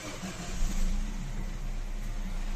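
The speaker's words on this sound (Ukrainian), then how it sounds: "Запускаємо двигун." A Peugeot 308 1.6 EP6 petrol engine, just fitted with a new timing chain, turns over and catches, settling into a low, steady rumble close by.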